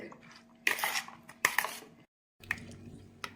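A spoon clinks and scrapes against a bowl as a cherry tomato salad is mixed, several quick metallic knocks with a brief silent gap.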